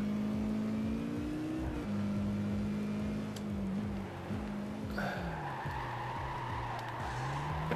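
Toyota Trueno engine in Gran Turismo 5 revving through gear changes on a short, tight-cornered course, its pitch climbing and dropping repeatedly, with tire squeal and skidding mixed in.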